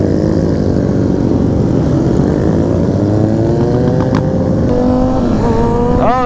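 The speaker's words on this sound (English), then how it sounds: "We got the chopper out here" A helicopter flies overhead during a large motorcycle rideout in Omaha, its loud, droning rotor blending with rising and falling engine tones from the bikes in a steady, continuous roar.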